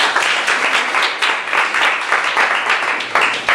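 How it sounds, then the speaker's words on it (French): Audience at the Miss Afrique Montréal pageant clapping loudly for contestants, a dense burst of hand claps with rhythmic surges, close and sustained throughout. "on les applaudit fort"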